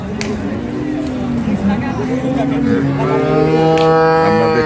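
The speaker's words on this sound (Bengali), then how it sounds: "দিনাজপুর জেলার আমবাড়িহাটে যে দুধের গাভী গরুগুলো প্রায় বিক্রয় করা হচ্ছে" Dairy cows mooing at the Ambari cattle market in Dinajpur, Bangladesh, with long, loud, close lowing over a busy background of crowd chatter and talk.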